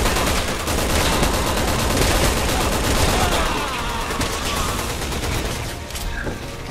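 Dense, loud gunfire from Resident Evil 6 on Professional mode, a rapid unbroken fusillade of shots with heavy rumble that runs throughout at close range.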